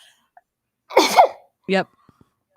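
A single sharp sneeze bursts out close to the microphone, followed shortly by a brief spoken word in a quiet room.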